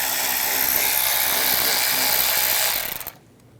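A ratchet fitted with a 10mm socket turns a bolt out on a 2013-2016 Dodge Dart 2.4L, giving a fast, steady clicking whir close by that stops abruptly near the end.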